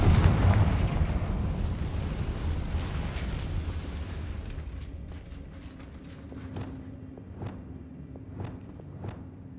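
A Confringo blasting-spell explosion in a video game: a loud, broad boom opens and rolls off into a long rumbling decay, followed by several short, sharp cracks spaced out near the end.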